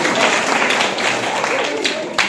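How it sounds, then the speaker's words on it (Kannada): Loud, sustained applause from the audience at a comedy program, a continuous dense clatter of clapping with voices faintly mixed in. "ಒಬ್ಬ ಜೋರಾದ ಚಪ್ಪಾಳೆ."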